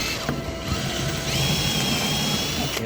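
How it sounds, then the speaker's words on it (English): Power drill boring with a drill bit through the center of a screen frame into a backing piece of wood, a loud steady whirring grind running continuously throughout. "So what you can see here is I've drilled through it, came out on the other end where the spline track is at"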